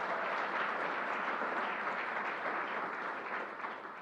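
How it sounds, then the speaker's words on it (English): Audience applause at the LEGOLAND theme park opening in New York, a dense, steady wash of clapping from a crowd that fades slightly toward the end. "Let's give Don a round of applause."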